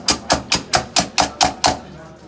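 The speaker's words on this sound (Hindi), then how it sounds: "उस वक्त अंडे को आपने फेंटना है जब तक इसके ऊपर जागा अच्छी तरह से नहीं बन जाते।" Eggs being whisked for shami tikki: seven even, sharp clicks of a utensil striking the bowl in a steady rhythm, close and clear, then a short quiet tail.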